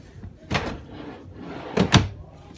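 Two wooden drawer movements in an RV interior, a 2022 Wildwood Lodge 353 FLFB travel trailer: one slide and bump early, then a quicker double knock of the drawer closing, close and fairly loud.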